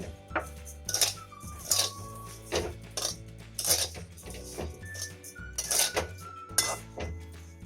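Repeated metallic scraping and clinking of a utensil against a wok while mixing grated coconut and sugar, in an uneven rhythm, close and fairly loud.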